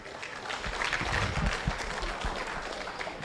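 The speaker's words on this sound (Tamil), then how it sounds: "அதுக்கு இவங்களுக்கும் ஒரு பலத்த கைத்தட்டு நீங்கள் கொடுக்கணும்" An audience at a Tamil New Year celebration applauds, a dense, sustained clapping that swells in the middle and carries on at a moderate level.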